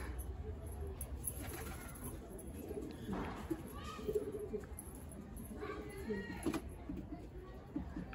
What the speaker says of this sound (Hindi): देखिए दोस्तों कबूतर